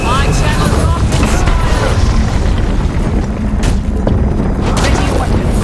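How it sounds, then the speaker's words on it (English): Rockets fire and burst repeatedly during a Guild Wars 2 battle, a continuous loud wash of booming explosions and rumble with sharp cracks scattered throughout, under voiced game dialogue. "I channel rockets!"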